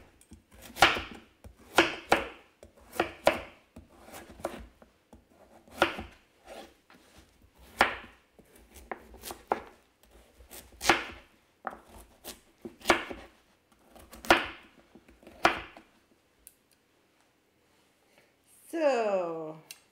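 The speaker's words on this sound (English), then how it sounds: "Then we cut the second one." A kitchen knife chops a pumpkin into pieces with crisp, regular cuts against a board, about a dozen strokes close by, followed by a brief clatter at the end.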